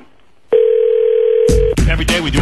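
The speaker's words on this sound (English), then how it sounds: "that's somebody on the phone right now trying to get on the roll call" Telephone line tone from a caller on the phone during a radio show, a steady loud single-pitch tone lasting about a second before people start talking over it.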